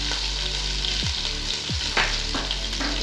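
Curry leaves drop into hot oil with ginger and garlic for a yogurt kari, giving a loud, steady frying sizzle with a few sharper crackling bursts as they hit the pan.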